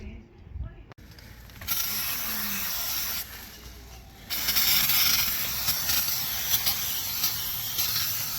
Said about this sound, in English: So I just realised this is a workshop degreaser.